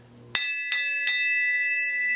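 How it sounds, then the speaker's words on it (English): A bell rung three times in quick succession, each bright metallic strike ringing on with a sustained shimmering tone, close and clear with no talk. "you want to ring the bell?"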